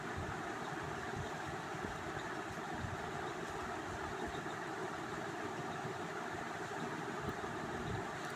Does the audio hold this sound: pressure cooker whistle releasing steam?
no